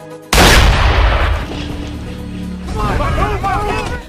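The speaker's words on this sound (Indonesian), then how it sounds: "menyuruh si sniper untuk menembakkan senjatanya" A loud, close sniper rifle gunshot from a Rambo film cracks out sharply and booms into a long rumbling decay, followed by overlapping film sounds with tonal chirps.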